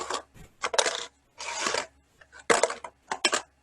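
A small metal paper clip rolls and rattles around inside a closed mystery box, making bursts of clattering and scraping broken by short pauses, close and moderately quiet.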